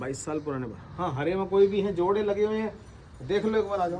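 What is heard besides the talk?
No everyday noises stand out.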